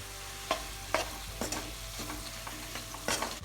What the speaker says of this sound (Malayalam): ഇതിലേക്ക് നമ്മൾ എടുത്തു വെച്ച മുളക് പൊടി ഇട്ട് ഒന്ന് ഇളക്കുക.